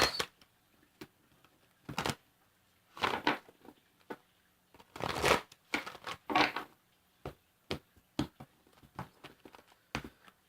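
Bursts of crisp riffling and flicking sounds, like a deck of cards being shuffled several times close up, separated by short pauses and soft taps.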